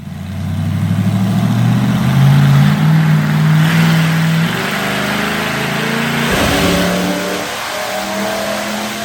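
An LS-swapped Ford Crown Victoria on nitrous makes a dyno pull, its V8 roaring loud and close as it climbs steadily in pitch, then drops off with a burble before settling back into a lower drone.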